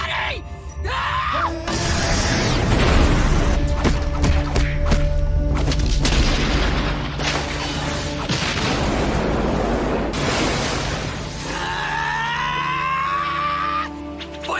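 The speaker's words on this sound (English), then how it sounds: "Fire style fireball jutsu!" An anime fire-style fireball jutsu explosion from Naruto makes a loud, sustained roaring blast with crackling bursts and thuds over a dramatic score. It fills the whole passage before a rising whoosh.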